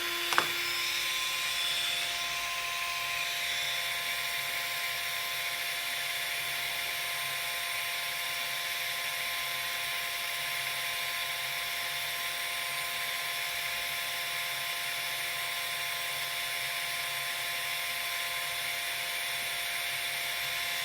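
A 775 DC motor runs on 24 volts at about 20,800 RPM while drawing 1.5 amps, giving a steady, even high-pitched whine with a constant tone that holds unchanged for the full stretch, with no voices.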